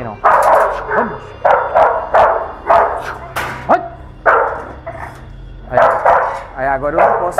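An American Bully barks repeatedly during a tense handling session, sharp loud barks and yips arriving in bursts with brief whimpers, while a person talks between them.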